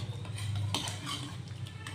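Boiled toor dal, pressure-cooked for four whistles, being mashed in a metal pot with a utensil, soft squelching presses with clinks of metal on metal, close and continuous.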